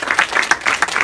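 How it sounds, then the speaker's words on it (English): A brief burst of applause at a reunion gathering of alumni, several loud claps in quick succession from a small crowd lasting about a second. "I think a round of applause"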